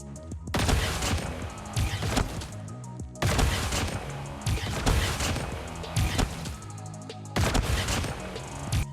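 Shotgun blasts in a first-person shooter game fire in heavy, booming bursts roughly every second and a half, loud and dense with crashing impacts, no talking.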